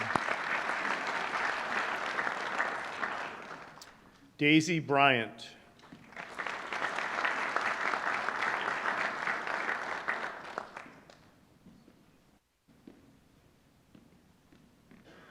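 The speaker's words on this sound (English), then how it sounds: "Round of applause" Sustained audience applause fills an induction ceremony hall in two long rounds, broken by a brief spoken name over a microphone, then fading to quiet near the end.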